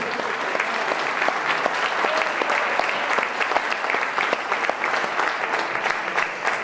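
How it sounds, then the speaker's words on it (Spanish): A church congregation applauds loudly and steadily, dense clapping from many hands filling the space without a break. "Denle un aplauso fuerte a Cristo."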